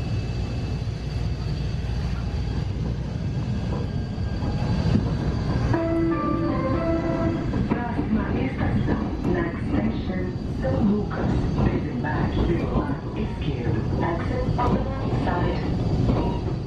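Riding aboard a Bombardier Innovia 300 monorail on São Paulo's Line 15, a steady interior rumble and whine of the moving car with faint chimes and murmuring passenger voices underneath.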